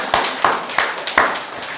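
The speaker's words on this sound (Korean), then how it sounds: "할렐루야 박수로 하나님께 영광을 돌리시기" Rhythmic clapping of praise from a Korean church congregation, about six sharp, evenly spaced claps in quick succession, fairly close and moderately loud.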